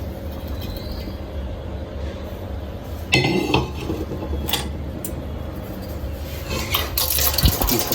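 Jaggery is stirred into mango juice in a metal pot, giving clattering utensil scrapes and clinks over a steady kitchen hum, with a louder burst of clanking midway and again near the end.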